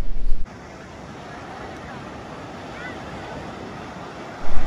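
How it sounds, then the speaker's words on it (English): Surf rolls in on the beach at Gulf Shores, Alabama, a steady broad wash of waves with strong wind buffeting the microphone at the start and end. "Today we're just at the beach in Gulf Shores, Alabama."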